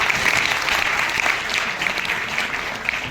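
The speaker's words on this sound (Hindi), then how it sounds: "जोरदार तालियों से स्वागत" Loud, sustained applause from a youth parliament audience in Raipur welcoming guests on stage; dense, even clapping from a large crowd continues steadily throughout.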